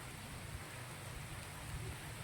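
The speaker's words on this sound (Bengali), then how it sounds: "এই দেখো বৃষ্টি পড়ছে নিচে টিপ টিপ টিপ টিপ করে বৃষ্টি পড়ছে" A light drizzle of rain falls outdoors as darkness gathers, making a faint, steady, even hiss with no breaks.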